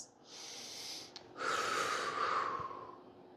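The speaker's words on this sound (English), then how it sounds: "We're doing nice steady breathing on this." Steady, close breathing during a beginner pole-fitness stretching exercise: one drawn breath, a short pause, then a longer, louder airy exhale that slowly fades, with no talking.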